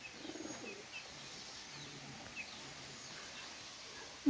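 Oman Teddy pigeons, a breed pair, give soft low cooing calls with a few faint chirps nearby, the coos quiet and intermittent over a light background hiss.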